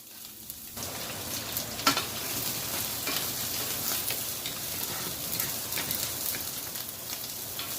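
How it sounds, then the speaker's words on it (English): Vegetables and noodles stir-frying in a home pan with chopped broccoli, a steady dense sizzle with scraping stirs throughout, close and fairly loud, no talking. "Stir a couple minutes until the vegetable a little bit softened."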